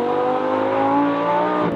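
A Lamborghini Gallardo LP 560-4 on winter tyres drives with its engine holding a steady, loud, harmonic-rich drone close by, easing slightly at the very end, with no talking.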